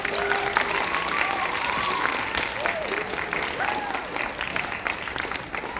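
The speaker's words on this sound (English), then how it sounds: "you should give a round of applause to your parents and guardians" Sustained audience applause for parents and guardians at a sixth-grade band concert, a dense, steady wash of clapping with crowd noise and a few faint whistles throughout.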